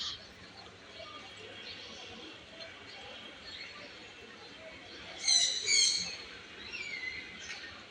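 A bird gives a short burst of high chirping calls near the end, over faint background murmur, outdoors at a wedding-trip fruit stop.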